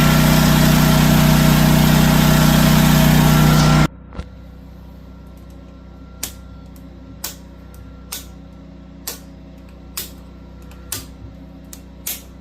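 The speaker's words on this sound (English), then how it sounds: "Let's go turn the generator on." Champion 15,000/12,000 watt portable generator running loud and close with a dense droning roar that stops abruptly, leaving quiet room tone broken by a series of sharp, evenly spaced clicks or ticks.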